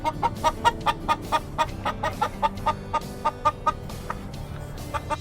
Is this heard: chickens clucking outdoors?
yes